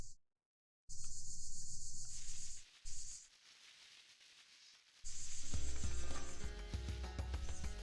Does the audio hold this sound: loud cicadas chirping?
yes